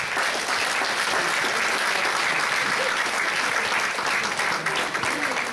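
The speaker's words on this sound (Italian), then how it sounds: "vi chiedo di fare un applauso" Steady, dense applause from an audience at a town festival presentation evening in Cotronei, Italy, loud and sustained throughout with no pause.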